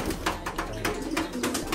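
An 11-year-old pigeon coos close by in soft, repeated throaty pulses, several in quick succession.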